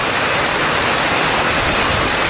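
Heavy rain pours down during a hailstorm in San Benedetto del Tronto, Marche, Italy, a loud, steady, broadband roar of water lasting throughout with no voices.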